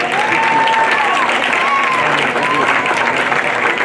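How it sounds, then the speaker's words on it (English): Steady, dense applause from a crowd at a junior county livestock show, loud and sustained throughout, with faint voices and a few whistle-like tones carrying over the clapping. "a big round of applause."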